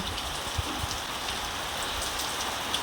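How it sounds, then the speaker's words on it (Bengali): Heavy morning rain pours down under a cloudy sky, a dense, steady hiss of drops drumming on surfaces that fills the whole stretch evenly with no letup. "প্রচণ্ড বৃষ্টি পড়ছে বন্ধুরা, মুষলধারে বৃষ্টি পড়ছে"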